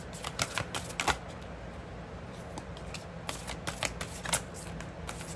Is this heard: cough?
no